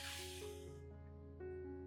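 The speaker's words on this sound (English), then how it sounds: "you can put it into a spray bottle and lightly mist both the top and underside of the orchid leaves" A single short hiss of a spray bottle misting water onto orchid leaves, fading within a second, followed by quiet room tone and a faint tonal hum.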